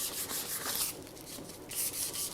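Sandpaper roughs up the painted surface of a steel wheel before priming, a close, steady hiss of back-and-forth rubbing strokes with no talk.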